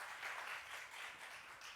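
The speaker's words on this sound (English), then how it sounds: "Let's give a round of applause." Audience at a live event about Ivy League admissions gives a round of applause, a soft, continuous patter of clapping heard faintly and at a distance.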